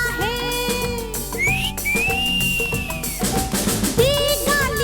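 Bright, sliding whistled notes rise and arc high over the orchestral backing of a classic Hindi film song sung by a singer, recurring in short phrases amid steady full-band music.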